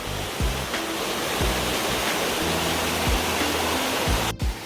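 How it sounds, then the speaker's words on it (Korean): Yukdam Falls in Seoraksan, a waterfall over 40 metres high, roars as a loud, steady rush of falling water, close and continuous throughout, with a few low thumps under it. "폭포도 있고 저 위에 또 폭포 있어."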